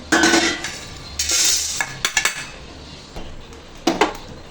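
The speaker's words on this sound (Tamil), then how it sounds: "இப்போ வேறு பாத்திரத்துக்கு மாற்றிக்குவோம்." Roasted chutney ingredients are scraped from a pan into another vessel, giving several close clinks and scrapes of a metal spoon against cookware, with short bursts of rustling between brief quiet gaps.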